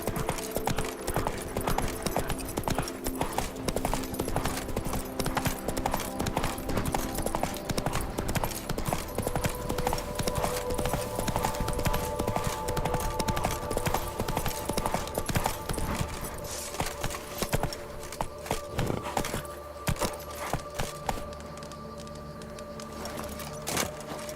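A horse's hooves clip-clop steadily in The Witcher 3: Blood and Wine, a brisk even rhythm running throughout over game ambience, close and prominent, with the pace loosening toward the end.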